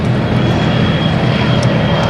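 A Douglas airliner with Wright 3350 radial engines, certified around 1949–1950, passes at an air show, giving off a loud steady propeller-engine roar that fills the whole moment.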